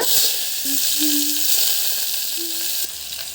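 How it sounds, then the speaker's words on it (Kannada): Cumin, mustard seeds and curry leaves splutter and sizzle steadily in hot oil while tempering for an okra huli, a dense crackling hiss that runs throughout with no one talking. "ಸ್ವಲ್ಪ ಜೀರಿಗೆ ಮತ್ತು ಸಾಸಿವೆ ಹಾಗೆ ಕರಿಬೇವನ್ನ ಇದ್ದೀನಿ ಈ ಥರ ಚಟ್ಪಟ ಅಂತಿರುವಾಗ"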